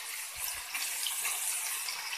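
Small fish dropped into hot oil on a flat tawa, giving a steady, close, broadband frying sizzle that holds evenly for the whole stretch with no talking.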